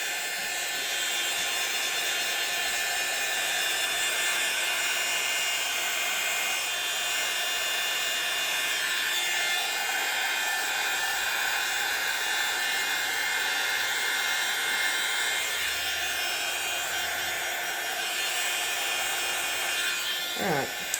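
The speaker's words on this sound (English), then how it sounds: "So we're going to stop with the heat gun." Steady broadband rushing blow of a heat gun held over a resin clock, continuous and fairly loud for the whole stretch with only slight shifts in tone and no speech.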